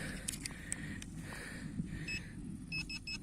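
Faint, intermittent electronic beeps from a metal detector chirp in short bursts over a low background rumble, some single, some in quick pairs.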